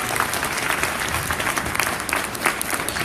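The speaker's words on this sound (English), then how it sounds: "Let's give a round of applause, please" An audience at a community history event, school kids among them, breaks into dense, sustained applause that fills the room at even strength throughout.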